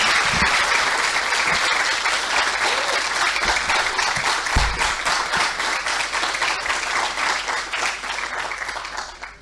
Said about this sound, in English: let us give us a round of applause to our new incoming students